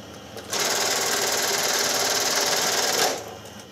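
An industrial sewing machine stitches umbrella fabric at the rib seam, running loud and steady for about two and a half seconds with a fast, even needle rattle, then stopping.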